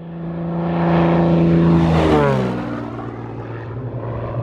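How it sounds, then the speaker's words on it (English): A Beechcraft F33A Bonanza with a brand-new IO-550 engine roars past on its takeoff run, the propeller drone loud and close, rising, then sweeping down in pitch as it passes, with a lingering rumble and echo afterward. "IO 550 Bonanza, let's go!"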